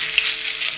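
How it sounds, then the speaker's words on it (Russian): Chicken cutlets frying in hot vegetable oil in a pan give a steady, close sizzle with no talking over it. "На сковороде разогреваем растительное масло, горячее масло выкладываем котлеты"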